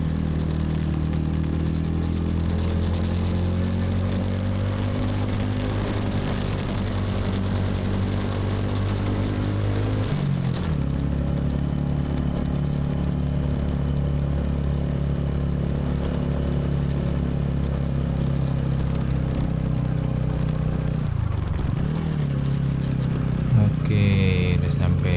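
A TVS Ronin motorcycle climbs a winding uphill road toward Kintamani, its engine droning loudly and continuously with pitch rising and falling through gear changes, plus wind rush.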